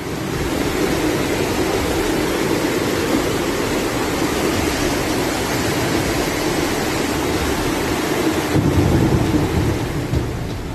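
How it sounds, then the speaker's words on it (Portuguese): Heavy rain and a thunderstorm with hail during flooding in Bursa, Turkey, a dense, steady roar of downpour with a low rumbling thunder swell near the end, loud and continuous with no voices. "as fortes chuvas e granizo inundaram as áreas agrícolas"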